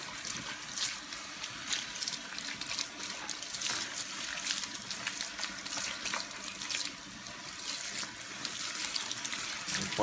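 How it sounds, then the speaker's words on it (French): Running water rinses hair colour out of hair at a salon sink, a steady broadband splashing and trickling that stays close and constant throughout, with no talking. "On va rincer toute la couleur."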